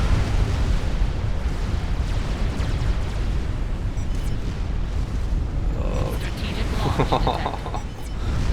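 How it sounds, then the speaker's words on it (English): Bomb explosion in the real-time strategy game Supreme Commander: Forged Alliance, a dense continuous rumbling roar with crackling debris, loud throughout, with further bursts near the end. "Look at this bomb."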